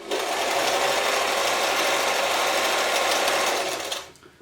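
A German-made Singer 720 sewing machine stitches steadily and close by in a continuous mechanical whir, running about four seconds before stopping abruptly.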